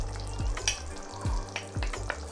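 Turmeric and paprika fry in a pot for Ghanaian jollof rice with a continuous soft sizzle, broken by a few quick scraping stir strokes, close and fairly quiet.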